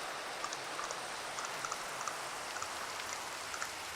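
Steady rain in a video game hisses evenly throughout, with faint periodic tapping drops over the wash, at a moderate, constant level and with no one talking.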